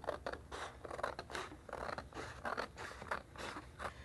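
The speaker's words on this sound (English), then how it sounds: "What you want to do first is cut out your image." Scissors snipping around a dye sublimation transfer image printed on paper, a steady run of close, crisp cuts with slight rustling of the sheet between strokes.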